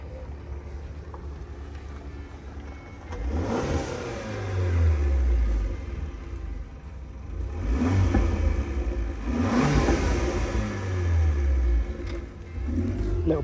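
A small car drives past and accelerates, its mid-pitched engine rising in repeated revving sweeps through gear changes, moderately near against an outdoor background.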